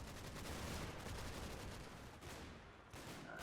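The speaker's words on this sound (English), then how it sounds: "some mortar runs going off" Mortar rounds bursting in the WWII game Combat Mission: Battle for Normandy, a dense, continuous rumble of blasts and gunfire rolling on without pause, loud and sustained with no voices.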